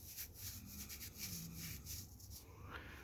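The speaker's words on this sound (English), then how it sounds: "you can hear how this hair sounds compared to this" Coarse, old rerooted doll hair is rubbed between the fingers up close, giving a steady dry scratchy rustle that continues without a break and with no voice.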